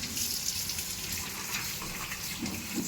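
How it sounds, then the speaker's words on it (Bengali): Running water from a tap splashes steadily and fairly quietly over potatoes and capsicum being washed, a continuous gush with faint clatter. "ক্যাপসিকামটা ভালো করে ধুয়ে নেবো।"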